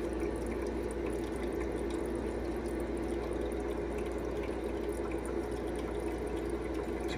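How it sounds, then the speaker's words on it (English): Euhomy portable ice maker pumping water up into its upper reservoir, a steady low motor hum with continuous trickling and splashing water, close and unchanging, with no voices. "Now it's filling up the upper reservoir to chill again."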